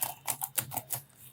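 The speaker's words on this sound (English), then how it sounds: "let's say I'll type something" Quick keystrokes on a computer keyboard while filling in a form, a steady run of about eight close, light clicks over just over a second, with no voices.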